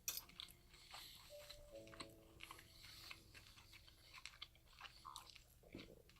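Someone chews bacon egg cups up close, a soft wet crunching and biting that continues steadily under faint background noise, with no talking.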